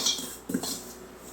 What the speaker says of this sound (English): we're just going to mix this by hand with the paddle